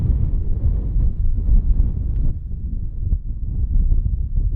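Strong wind buffets an open microphone in desert badlands near Navajo farmland, a continuous low roar with gusty swells that dip briefly midway before building again.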